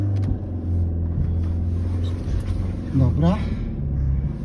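A Fiat Siena pulls away with a low engine rumble rising briefly as it revs, close by, while someone speaks a word over it.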